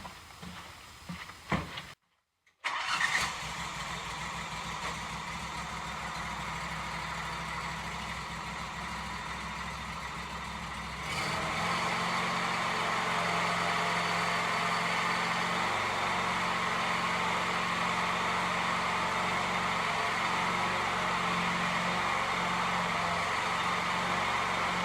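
A Z2 stand-on mower with ZT3400 transaxles cranks, goes briefly silent, then its engine catches and settles into a steady, close idle that steps up to a louder, fuller running drone partway through and holds there.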